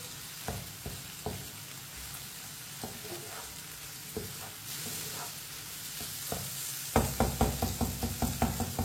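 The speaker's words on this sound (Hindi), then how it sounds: "अब सब चीजों को मिक्स कर लेंगे। एक मिनट के लिए पका लेंगे।" Bottle gourd and eggs sizzle steadily in a hot pan while a spatula stirs them, and the scraping strokes grow quicker and more rhythmic toward the end.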